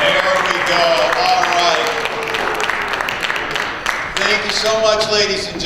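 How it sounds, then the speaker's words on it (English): An audience at a beauty pageant applauds the contestants in a sustained wash of clapping and crowd noise, with a voice talking over it. "Give them some applause"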